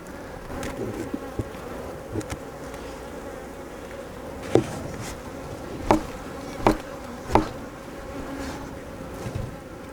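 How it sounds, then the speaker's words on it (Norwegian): Honey bees buzz steadily and close at a split hive, with a few sharp knocks or taps against wooden hive parts cutting through the drone. "Nå gjenstår det bare å blåse ned biene i avleggeren."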